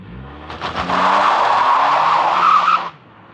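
A Toyota Tacoma TRD Off-road with a 2.4-liter four-cylinder turbo accelerating hard, tires squealing in one loud sustained screech over engine rumble, cutting off abruptly.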